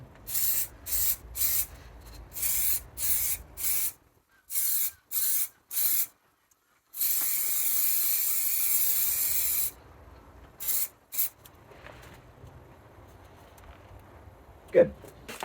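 Short bursts of aerosol spray paint hiss as a rattle can coats a car wheel's spokes and front face, several quick close blasts followed by one long sustained spray, then a few more short bursts.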